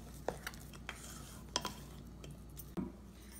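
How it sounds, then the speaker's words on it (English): A spoon stirs gluten-free vegan murukku batter in a bowl, giving a few soft, scattered scrapes and taps spread irregularly over a quiet background. "And so I'm going to give it a stir again."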